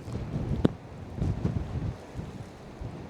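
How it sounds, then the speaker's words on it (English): Blustery wind buffeting the microphone on a coastal headland, low rumbling gusts rising and falling with a faint wash of sea in the background. "It was very windy"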